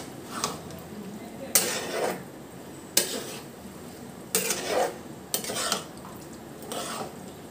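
Boiled chickpeas and black chana being mixed in a pan for hotel-style chole, heard as a spoon scraping and knocking against the metal in a handful of separate bursts over a low background.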